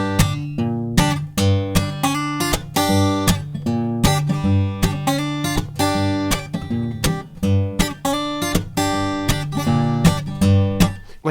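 A Hill Country blues riff in standard tuning, with a low repeating bass line and higher notes woven together, played steadily and alone with a hypnotic, looping feel.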